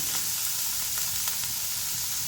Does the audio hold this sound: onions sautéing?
yes